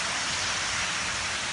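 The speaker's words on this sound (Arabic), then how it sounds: "شوف برد" Hail falls outdoors in a dense, continuous hiss, unbroken for the whole short stretch and heard without voices.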